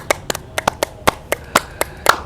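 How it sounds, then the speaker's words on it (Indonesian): Sparse claps from a small group cheering for a performer at an Indonesian street-style show, about ten separate sharp hand claps in an uneven rhythm, close and fairly loud. "Semua tepuk tangan dulu buat abang"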